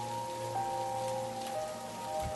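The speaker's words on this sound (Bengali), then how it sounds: "বৃষ্টি পড়ছে" Cartoon-style rain falls steadily on a surface at a ghost-story night scene, a soft continuous patter with faint droplet ticks and low, even loudness, no voices.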